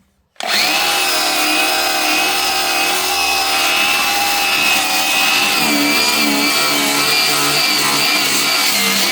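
Power tool fitted with a stripping disc spinning up abruptly and grinding steadily across a metal surface, loud and close with a sustained whine that shifts in pitch as the pressure changes.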